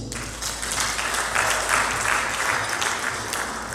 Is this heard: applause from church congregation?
yes